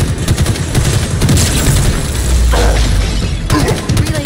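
Relays in Halo Infinite shot apart, with sustained loud automatic gunfire, crashing impacts and a shattering burst, dense and close throughout.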